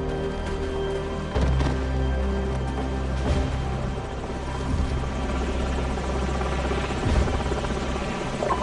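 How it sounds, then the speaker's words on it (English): Enemy helicopters in a Call of Duty 4 mission drone steadily throughout, their rotor and engine noise loud and continuous with a low thrumming pulse and occasional heavier thumps. "Enemy helicopters."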